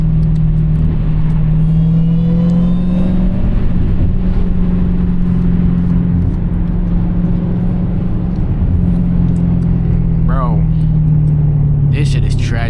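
A supercharged Dodge Hellcat drives on the road, with a steady deep engine drone and a higher whine running alongside it, heard from inside the car at a constant loud level.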